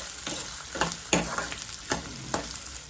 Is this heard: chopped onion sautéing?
yes